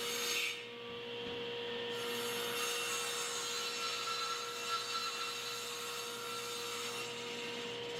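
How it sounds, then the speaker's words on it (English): Wooden bench top for mudroom cabinetry being cut down to size with a power saw, a fairly quiet, continuous rasping cut with a steady tonal hum underneath, alone without speech. "There's my bench top getting cut down to size."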